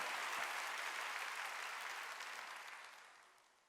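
A church congregation at a Sunday worship service claps together in a dense, steady wash of applause that holds strong and then gradually fades over a few seconds.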